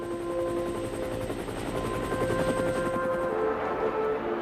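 A military helicopter at a Korean War field hospital gives off a steady rotor chop and engine whine, droning continuously throughout.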